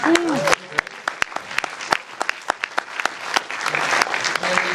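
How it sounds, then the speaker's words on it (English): An audience at a film Q&A with the producers claps in a burst of sharp, scattered hand claps. The applause is dense at first, thins out, then swells again near the end while a voice speaks over it. "we should give a round of applause to Lauren Canny, the oldest daughter"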